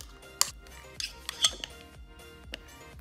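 Cream cheese from a warmed second 8-ounce container is scraped into a crock pot for buffalo chicken dip, giving a few faint, scattered clinks and taps of a utensil against the pot with no talking.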